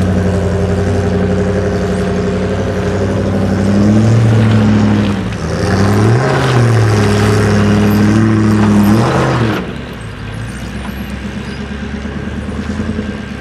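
Diesel jeeps on an off-road jeep track at the Barkley River, engines loud and close, revving and idling in continuous waves with rising and falling pitch and no voices over them.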